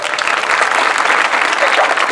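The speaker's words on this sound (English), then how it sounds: "please give them a round of applause" Crowd applauses at a marching band exhibition, a steady wash of clapping that runs evenly throughout without talk over it.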